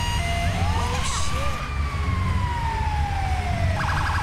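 A wailing fire-engine siren in the video game GTA V sweeps up and down continuously over a steady engine rumble, loud and close, with faint voices mixed in.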